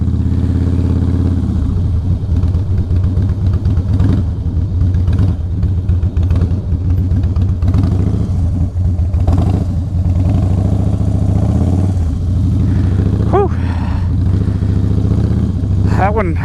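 Motorcycle engine idling and pulling through low-speed riding drills, a steady loud rumble with small throttle changes throughout, some higher engine whine near the end.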